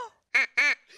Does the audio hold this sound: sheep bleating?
no